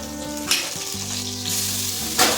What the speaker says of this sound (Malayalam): ഇനി നമുക്ക് അതിലേക്ക് നീരുള്ളിയും കരിയാമ്പലും ഇട്ട് കൊടുക്കാം